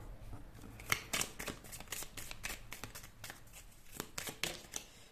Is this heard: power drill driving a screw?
no